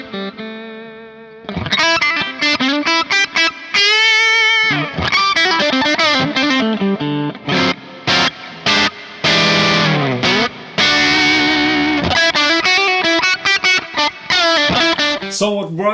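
Electric guitar played through a Neunaber Immerse Reverberator pedal with every knob set to noon: busy, bright picked phrases and chords with a lush, spacious reverb wash sustaining between notes, loud and close throughout.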